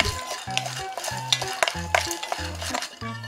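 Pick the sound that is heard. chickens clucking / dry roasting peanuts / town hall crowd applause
dry roasting peanuts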